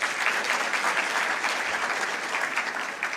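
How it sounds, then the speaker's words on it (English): An audience at a graduation ceremony applauds, a steady, full burst of many people clapping together, close and fairly loud for the whole stretch with no talk on top. "We have watched the clip, and let's applaud them,"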